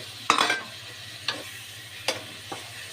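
Prawns and a hilsa fish head being stirred into fried masala in a pan, four distinct scraping strokes over a soft sizzle, close and without speech.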